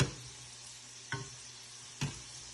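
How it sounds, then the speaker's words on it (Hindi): Samosas frying in hot oil give a steady, quiet sizzle, broken by two soft stirring clinks partway through, with no talk. "जब तक हमारे समोसे फ्राई हो रहे हैं"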